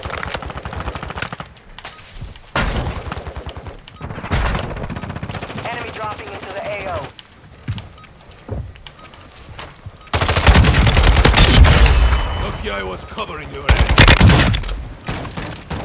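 Machine gun fire in Call of Duty, loud sustained bursts broken by short quieter gaps, with heavier, longer volleys near the end and a voice talking between the shots.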